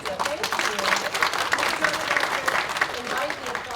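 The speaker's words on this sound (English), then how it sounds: "Invite the applause, and it's more than a golf applause" An audience at a panel event claps steadily, a dense, fairly loud patter of hands with no pause, while a voice is heard underneath.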